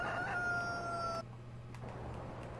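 A rooster crows once near a chicken coop in the farming video game Farming Simulator 15, a clear rising-then-falling call over a steady low background hum that drops away afterward.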